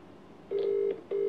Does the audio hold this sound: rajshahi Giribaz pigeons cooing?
no